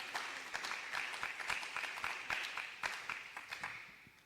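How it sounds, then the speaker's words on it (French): A church congregation claps in steady, dense applause, a crowd of hands beating at a fairly even rhythm, quiet and somewhat distant in a reverberant room. "Là, tu as applaudi pour moi."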